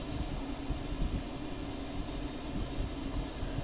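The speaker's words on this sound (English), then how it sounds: "I want you to bring the throttles back to idle." A fighter jet's engines sit throttled back to idle in the DCS flight simulator, giving a steady, even drone and rumble with no breaks.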